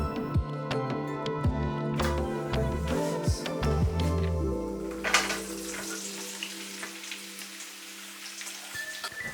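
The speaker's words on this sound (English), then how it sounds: "Now we'll allow our first set of ingredients to cook for a little bit. Give it a stir now" Curry ingredients cooking in a pan for a creamy potato curry, with a crackling, rain-like sizzle and occasional stirring clatter, while tonal music fades out over the first half.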